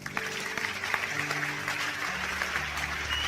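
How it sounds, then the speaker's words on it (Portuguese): A church congregation claps together during a sermon, a brief round of steady, dense applause from a crowd in a hall, with faint background tones beneath it. "Palmas para o Senhor Jesus."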